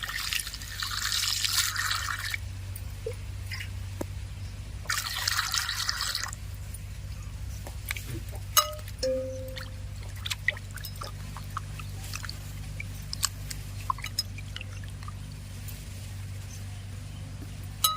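Chopped yardlong beans and onions rinsed with water at home, with bursts of running water, steady trickling and scattered drips close by under a low background hum.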